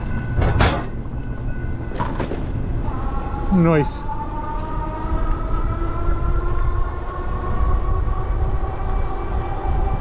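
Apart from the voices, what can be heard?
train passing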